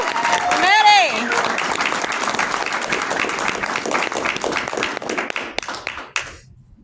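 A live audience applauds to congratulate Maddie, clapping steadily as one dense wash, with a brief cheer near the start and scattered louder claps, fading out near the end.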